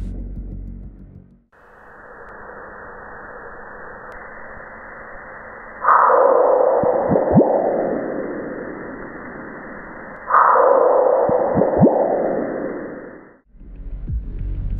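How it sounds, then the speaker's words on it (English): Meteoroid impacts on Mars recorded by NASA's InSight lander, rendered as a steady noisy rumble with two loud downward-sweeping bursts, each fading over a few seconds, with no talk. "we can now hear meteoroid impacts on Mars"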